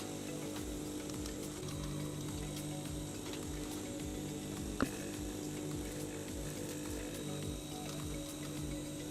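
A sewing machine stitching the left side of a clamshell pouch, a steady fast mechanical whir with even rapid needle ticks and a low motor hum, continuous and close with no talking.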